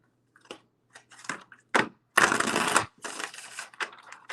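A tarot deck is shuffled close up in several quick bursts of riffling and slapping cards, separated by short pauses, with one longer riffle in the middle.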